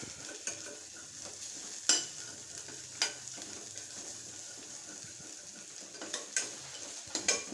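Pepper masala for mutton being sautéed in a pan, a steady low frying sizzle with a few sharp scrapes and clinks of a spoon at irregular moments, close by and without talk.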